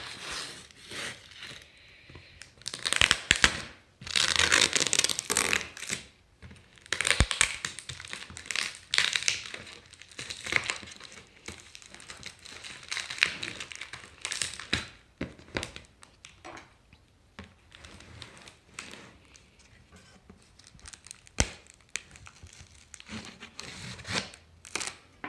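Packing tape torn and peeled off a package from Japan while unboxing a white robot dog, heard as loud ripping bursts and crinkling plastic that come and go over about 25 seconds, with quieter rustling between them and no talk.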